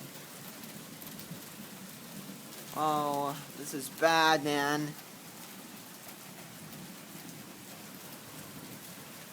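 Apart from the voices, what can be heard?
hail falling during a thunderstorm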